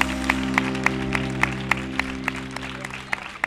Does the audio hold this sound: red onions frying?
no